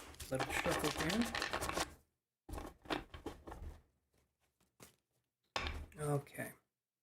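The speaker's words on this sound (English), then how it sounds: "Let it shuffle here." Bursts of rapid papery riffling from a deck of tarot cards being shuffled, close by, in three separate spells with short quiet gaps between them.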